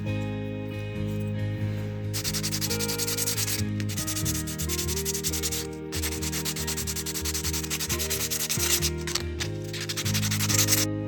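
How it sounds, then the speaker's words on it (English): A scrap wood crankbait fishing lure is sanded by hand in steady rubbing strokes, loud and close, with short pauses between passes. "do some sanding"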